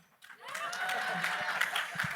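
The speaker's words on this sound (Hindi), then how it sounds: "तो ये थैंक यू सो मच, तालियां." At a film trailer launch event, an audience starts clapping after a brief quiet moment, the applause swelling quickly into a steady, moderately distant patter of many hands, with talk faintly mixed in.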